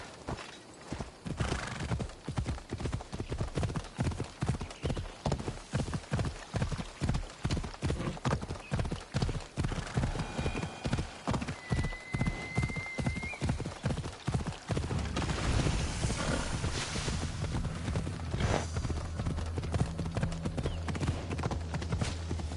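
Horse hooves in the Assassin's Creed Odyssey video game clop steadily at a quick, even canter for most of the stretch, close and loud, and a whinny and faint game sounds come in near the end.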